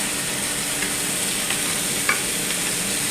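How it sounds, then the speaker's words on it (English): Chicken skin searing in a pan gives a steady, loud, close sizzle with faint occasional pops, continuous and without talk. "So this is just a searing effect"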